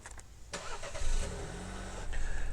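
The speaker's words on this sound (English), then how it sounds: "remote start" A 2024 Buick Envista Sport Touring starts by remote start: a brief click and starter crank, then the engine catches with a rise in revs and settles into a steady idle, heard close and alone.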